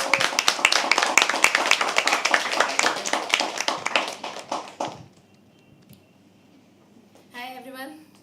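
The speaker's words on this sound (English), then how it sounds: "Keep clapping till she comes on stage." An audience at a live poetry open mic claps for a first-time performer, with brisk rhythmic clapping that fades out after about five seconds, then a voice speaks briefly near the end.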